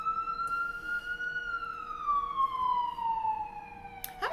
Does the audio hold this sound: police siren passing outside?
yes